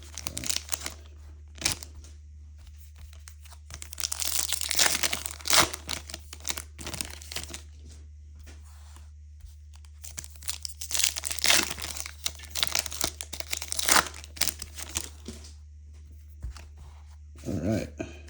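Topps soccer trading card packs being torn open one after another, with bursts of loud, close crinkling and tearing of foil wrappers broken by quieter pauses, with no talking.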